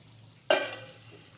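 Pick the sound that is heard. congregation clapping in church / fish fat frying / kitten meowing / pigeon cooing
fish fat frying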